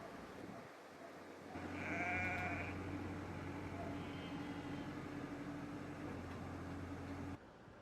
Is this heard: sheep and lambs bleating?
yes